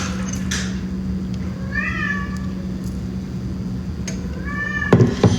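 A cat outside a door meows twice, drawn-out plaintive cries over a steady low indoor hum, with a few soft thumps near the end.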